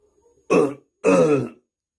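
Two loud, close throat-clearing coughs from a storyteller imitating a rich man in a folk tale, separated by a brief pause in otherwise quiet surroundings.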